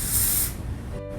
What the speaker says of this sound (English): Now we're going to spray our dry shampoo.